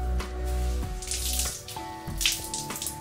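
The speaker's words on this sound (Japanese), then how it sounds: "やばい、もうこれいっぱい汗が垂れてる。" Sweat splashes and trickles from a sauna suit after an hour-long workout, a steady close watery pour over a low hum, with no voices.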